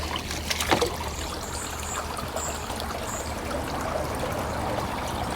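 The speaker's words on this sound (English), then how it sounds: "drain some water out. Just gonna drain it right into here." Water drains from an outdoor goldfish tank into a container in a steady, close trickle, with a brief louder splash near the start and a constant rushing wash behind it.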